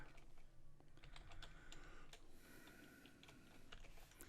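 Quiet, fast key clicks from a computer keyboard as values are typed into an Excel spreadsheet, close up over a steady background hiss.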